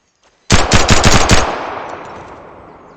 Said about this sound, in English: Let's test the pistol.